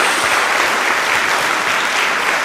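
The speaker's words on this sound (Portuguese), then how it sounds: "Dê uma salva de palmas ao Senhor." Loud, steady applause from a church congregation fills the whole stretch, dense and even with no voices standing out.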